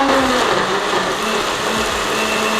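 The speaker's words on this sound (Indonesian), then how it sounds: "Terus kita akan blender sampai halus." A blender purees pineapple chunks with a splash of water, a loud continuous whirring motor roar that holds steady throughout with slight shifts in pitch as the blade churns.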